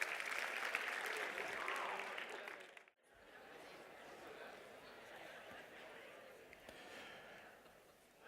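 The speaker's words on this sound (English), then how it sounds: "Give yourself a round of applause." A classroom of students applauds themselves in a loud burst that stops abruptly, followed by quieter murmuring and scattered noise.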